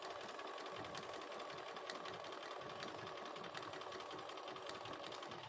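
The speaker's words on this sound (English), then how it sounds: "So I'm going to sew straight down to this end" A sewing machine runs steadily, stitching fabric in a straight line at a regular 2.5 stitch length, with a continuous close whirring drone and no pauses.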